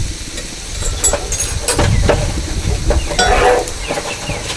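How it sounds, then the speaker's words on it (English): Eggs cook on a Blackstone griddle with a loud close sizzle and sputtering crackle, mixed with scraping and tapping of a spatula on the flat-top surface; no one speaks. "let's get the eggs started quick"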